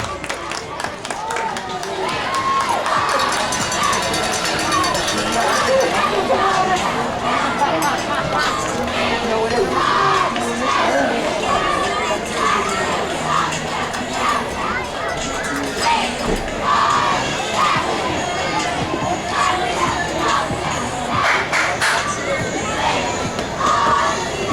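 Crowd in the stands at a 2020 high school football game between the Stilwell Indians and Broken Bow Savages, late in the fourth quarter: a steady, dense roar of murmuring voices with scattered shouts and children's cries throughout.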